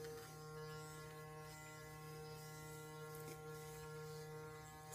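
A Satin Smooth HydraSonic facial brush runs steadily at close range, a constant buzzing motor drone with a faint ratcheting mechanical texture throughout and no talking.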